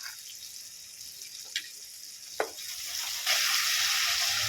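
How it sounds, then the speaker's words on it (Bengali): Jackfruit seed masala with tomato ketchup sizzles in hot oil, a fairly quiet frying hiss broken by a few brief clinks and scrapes, then swelling louder near the end. "মশলাটাকে আবারও পাঁচ মিনিট ভালো করে কষিয়ে নেব"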